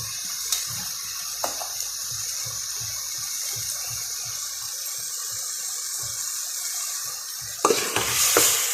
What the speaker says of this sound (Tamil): வெங்காயம், தக்காளி, இஞ்சி, பூண்டு, பச்சை மிளகாய் எல்லாம் வதங்கி வச்சுக்கணும்.